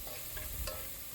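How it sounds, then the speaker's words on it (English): Onions sauteing in a pan with cumin seeds and ginger garlic paste, a steady close sizzle with soft stirring scrapes, no voices. "sauteing the onions with a little bit of jeera and ginger garlic paste"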